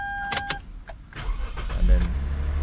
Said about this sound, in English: It should hear the engine race a little bit